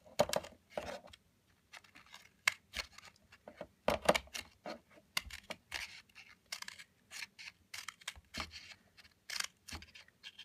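Scissors snip repeatedly through a cardboard paper towel tube, cutting small, closely spaced slits for a homemade bunny toy; crisp, close cuts come in quick irregular bursts with brief pauses and no talking.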